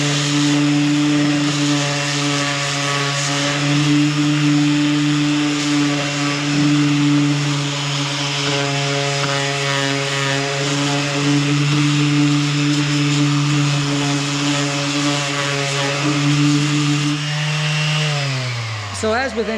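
A cordless portable sander working along wood edges gives a steady, loud motor whine with a continuous buzzing drone, winding down at the end.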